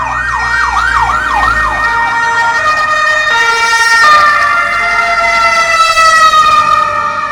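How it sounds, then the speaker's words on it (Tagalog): Wailing ambulance sirens sweep up and down loudly, then shift to a steady high tone as the ambulances pass close by on a rainy road. "mga ambulansya dumaan"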